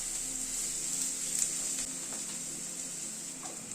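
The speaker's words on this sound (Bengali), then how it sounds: "পেঁয়াজটাকে দিয়ে এই মিনিট খানেক আবার একটু নাড়াচাড়া করে নিলাম" Onion frying in a pan with steady, close sizzling and a faint stir or two, no voices over it.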